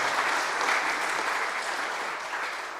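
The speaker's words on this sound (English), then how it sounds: "A hand of applause for her, please" A church audience applauds a Methodist reverend at a church re-dedication in San Nicolas, Aruba: a dense, sustained burst of clapping from many hands, loud and even, slowly tapering over a few seconds.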